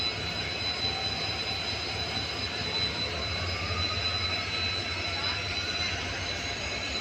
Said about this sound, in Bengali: কত লম্বা ট্রেন,